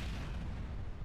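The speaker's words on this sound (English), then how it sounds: "The explosion is very underwhelming" A power sink exploding in the Space Station 14 video game, heard as a short, quiet, muffled boom with low rumble that lasts about a second, alone and without talk.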